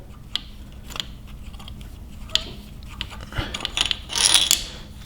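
A ratchet undoes the center bolt on a 5.7L Hemi engine during assembly, giving a series of close, sharp metallic clicks and clatters that build into a brief burst of rapid ratcheting near the end.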